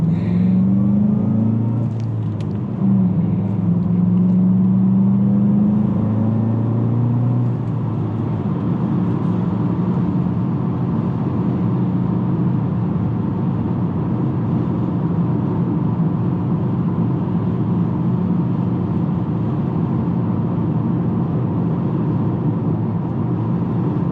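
A 2019 Volkswagen Jetta GLI engine pulls at high RPM while driving, loud and close from inside the cabin; a rising revving whine climbs through gears over the first few seconds, then settles into a sustained steady drone with road rumble.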